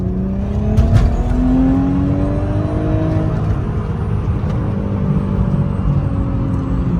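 Manual 2001 Audi B5 S4 accelerates under boost in second gear, a loud, close engine note climbing steadily in pitch with a rough, rumbling edge throughout.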